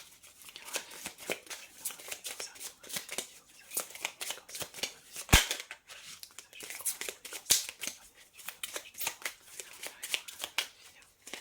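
Tarot cards are shuffled by hand for a reading, a quiet close-up series of rapid papery riffles and flicks in irregular bursts, with one sharper snap midway.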